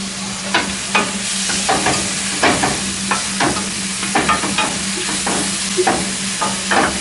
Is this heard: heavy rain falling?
no